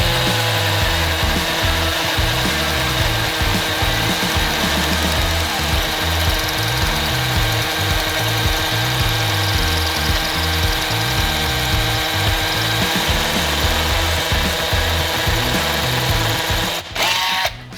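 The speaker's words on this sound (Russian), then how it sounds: "Давайте попробуем в бок еще сверлануть." A power drill bores sideways into a poorly made concrete wall, a steady, loud, continuous grinding whir that runs unbroken for most of the stretch and cuts off abruptly near the end.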